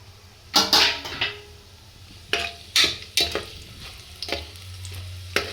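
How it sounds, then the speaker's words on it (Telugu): Whole cumin, cinnamon, bay leaf, cloves, cardamom and pepper frying in moderately hot oil, with sharp sizzling bursts as the spices are stirred, several loud close crackles spaced irregularly over a steady low sizzle, no talking. "జీలకర్ర, దాల్చిన చెక్క, బిర్యానీ ఆకు, లవంగాలు, యాలక్కాయలు, మిరియాలు, ఇవన్నీ ఒకేసారి వేసుకొని ఫ్రై చేసుకోవాలన్నమాట"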